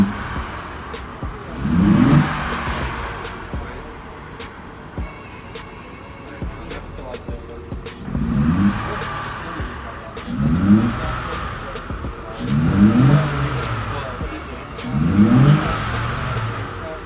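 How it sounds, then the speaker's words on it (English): A vehicle engine revs up and settles again about five times in a row, each surge rising and falling over a steady idle, heard close and fairly loud. "Now we're going to be revving the vehicle."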